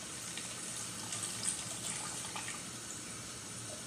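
Water pours steadily from a pot of cooked macaroni, a continuous soft splashing gush, close and faint, with no talking.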